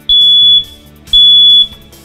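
Two loud, piercing smoke alarm beeps, each about half a second long, sound close by with a short pause between them.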